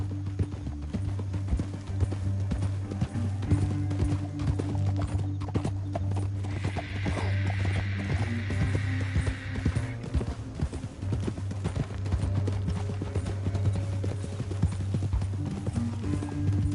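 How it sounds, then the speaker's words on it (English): Steady clip-clopping of horse hooves in Red Dead Redemption 2, continuous and fairly close, with a low rumble underneath and a brief higher hiss midway. "get off your horse"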